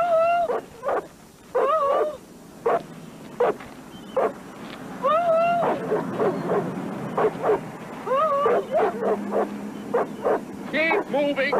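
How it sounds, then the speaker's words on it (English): Dog in a car yipping, barking and whimpering in repeated short high bursts throughout, close and loud, over a low engine rumble. "Haven't you ever seen a dog in a car before?"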